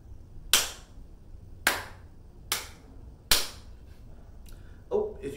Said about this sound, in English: When I clap, you clap.